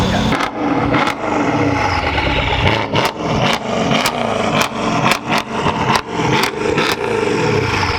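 A Mercedes-AMG car engine revs hard and loud nearby, with repeated sharp throttle blips and crackling pops punctuating a steady, growling drone.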